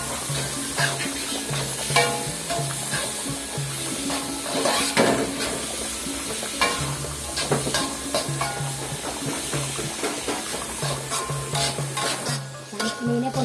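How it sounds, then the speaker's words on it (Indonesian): Tofu frying in a large wok in a village kitchen, a loud continuous sizzle with repeated scraping and stirring clatter of a utensil against the pan, steady throughout. "tahu yang digoreng"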